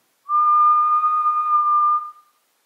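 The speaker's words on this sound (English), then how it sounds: "So if I do my whistle again," A single clear whistled note held steadily for about two seconds, close and loud, then cut off, with silence around it.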